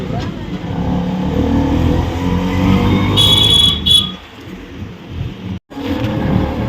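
An auto rickshaw's engine drones steadily from inside the cabin, with a brief beep partway through and a short dropout near the end.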